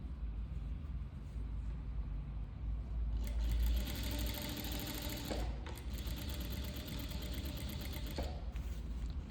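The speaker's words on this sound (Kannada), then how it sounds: "ನಾನು ಇಲ್ಲಿಗೆ ಸ್ಟಿಚ್ಚನ್ನು ಹಾಕ್ಕೊತೀನಿ" A sewing machine stitches the side seam of a blouse, its motor whirring steadily and continuously with a brief pause partway through, close and alone with no talking.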